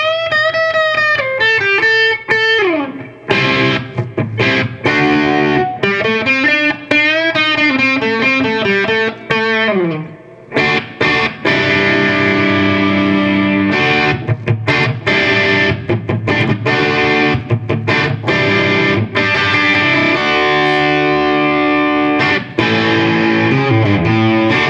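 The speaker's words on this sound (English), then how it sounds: "let's check out distortion on the FG-421." Distorted electric guitar through an FG-421 and a 4x12 cabinet plays bends, held notes and choppy riffs with thick, saturated tone and long sustain, loud and continuous, broken by a few brief pauses.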